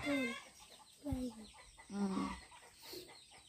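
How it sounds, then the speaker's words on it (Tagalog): Several short hen clucks and bird calls come in bursts, close by, with a soft murmur of farmyard background between them. "Ito may mga manok kami dito, guys."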